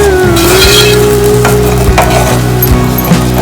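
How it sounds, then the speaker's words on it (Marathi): Ground masala paste roasts in a pan, a loud, close sizzle with scraping stirs and a few clanks, layered over a continuous mechanical hum with a droning tone. "वाटण चांगलं भाजून घ्यायचं आपल्याला."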